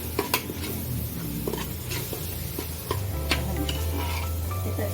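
Ground masala frying and being stirred in a pan for mutton kulambu, with a steady sizzle under repeated scraping and clinking strokes of a spoon against the pot, close and continuous.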